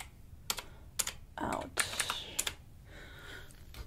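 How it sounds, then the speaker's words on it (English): Fingers type on a computer keyboard in an office-style eyebrow salon roleplay, with several sharp clusters of key clicks and a brief rustle, close but soft, and a quiet word spoken briefly. "I've been typing all this."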